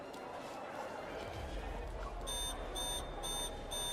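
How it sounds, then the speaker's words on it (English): An alarm in the video game Love and Deepspace begins beeping in regular high-pitched pulses over a steady background rumble partway through, rising into the foreground. "The alarm becomes louder."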